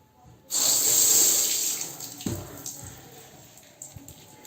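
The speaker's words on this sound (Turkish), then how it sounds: "Şimdi tahliyedeki vanayı açıyorum." Water gushes from a combi boiler radiator drain valve as it is opened, a sudden loud rushing flow with hiss that starts abruptly, then eases into a gentler, uneven trickle and splash.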